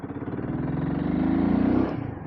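A Royal Enfield Himalayan 450 adventure motorcycle on a rural road route, its engine droning steadily with a slight rise in pitch before easing off, heard loud and close with wind noise and no talk.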